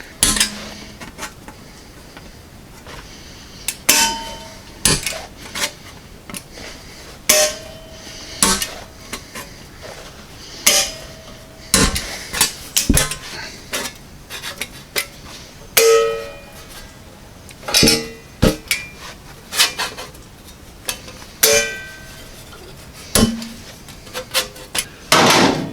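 Metal hammering and clanking while flanging the edge of a car quarter panel during a restoration, a steady series of sharp, loud strikes at irregular intervals with no talk.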